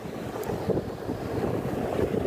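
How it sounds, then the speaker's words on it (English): Strong wind buffets a microphone outdoors on Fremont Street, a loud, continuous low rumbling roar with irregular gusty swells and no other clear sounds. "It's windy as fuck though."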